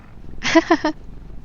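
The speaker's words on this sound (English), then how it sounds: "Have to pet the cat." A cat in the video game The Darkest Files gives a short meow of two or three quick harmonic pulses, close and clear over a quiet game background.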